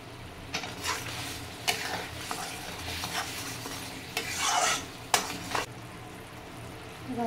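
A spoon stirs fish masala with turmeric in a pan, scraping repeatedly against the metal over a low, soft sizzle of frying, with no voices.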